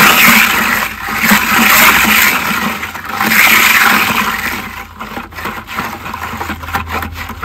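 A small batch of concrete for statues churns in a mixer, a loud, close, rough swishing and grinding in surging waves that grows choppier toward the end.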